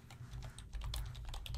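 Rapid keystrokes on a computer keyboard while entering a web address during a software install, a steady close run of clicks with no talking.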